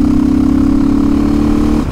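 A 500 enduro motorcycle engine holds a steady, loud buzzing drone at close range, sustaining an even note before dropping off at the very end.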